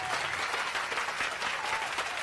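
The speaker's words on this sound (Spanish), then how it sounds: "Ahí le están aplaudiendo" Dense, steady applause from an audience fills a brief stretch at a moderate distance, continuous without pause and with no clear voices above it.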